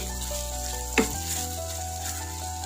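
Loud sizzling in a pan with a single scraping stir, over a constant low hum, and no talking.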